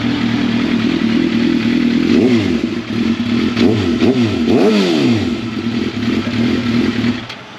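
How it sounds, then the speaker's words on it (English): A motorcycle engine runs loud and close, revving repeatedly in quick rising and falling bursts over a steady idle before cutting off near the end. "Start my awesome bike."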